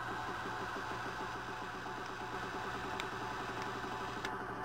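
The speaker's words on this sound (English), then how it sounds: "and then slowly put the drill on and pull back." A drill spins to twist wires together for LED leads, giving a steady, continuous motor hum with a faint rhythmic vibration throughout, close by and alone with no talking.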